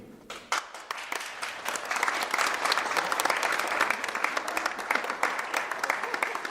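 An audience claps for performers being introduced on stage, dense applause that rises quickly from a quiet start and holds steady and close with bright individual claps throughout.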